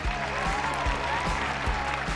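Sustained audience applause on a Chinese television dating show, dense steady clapping from a studio crowd filling the whole moment without talk.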